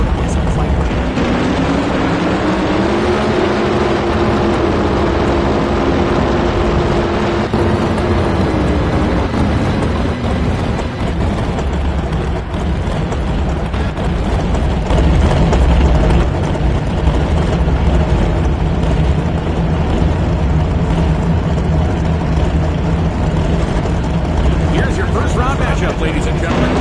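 Loud drag racing engines make a pass, a dense, unbroken roar that fills the whole clip at high volume from start to finish, with no voices over it.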